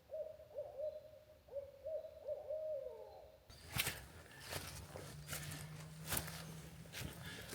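Barred owls hoot in a chorus, a run of rhythmic, wavering calls at moderate distance that stops midway, followed by close footsteps and rustling with a low steady hum.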